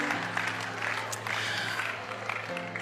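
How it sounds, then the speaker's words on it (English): Audience applause fills a talk on finding a romantic match, a steady broadband clatter of many hands that holds at an even level for the whole stretch, with a faint low hum beneath. "I think that deserves another round of applause."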